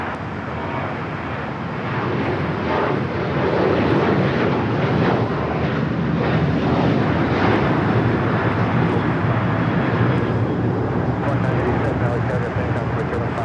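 An airliner painted in the LA-28 Olympics livery takes off from LAX bound for Shanghai, a steady, loud jet roar that holds through the whole stretch with a faint voice under it.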